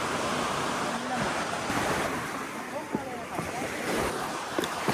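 Sea waves roll and wash steadily along the shore, a broad constant surf roar with wind gusting across the microphone and a few faint voices in the background.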